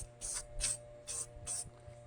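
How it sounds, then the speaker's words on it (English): Short bursts of metallic silver spray paint hissing from an aerosol can into a figure's hair, four quick separate sprays evenly spaced, close and fairly quiet over a low background hum. "kind of spray it deep in there"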